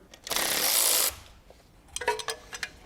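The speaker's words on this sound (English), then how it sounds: "I'm gonna disconnect the alternator." Ratchet wrench working on a BMW M70 V12 engine in an E31 850i, a burst of quick metallic clicking followed by a few short, sharper ratcheting clicks close by.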